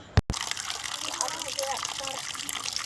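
Water runs steadily from an open tap pipe, a soft continuous splashing gush that follows a sharp knock at the start, with faint voices in the background.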